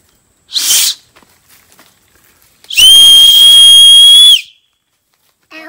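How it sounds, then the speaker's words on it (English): A whistle blown through an acorn cap held between the thumbs gives one long, loud, piercing shrill tone lasting well over a second, preceded by a short breathy puff and followed by silence. "you can make this into a whistle"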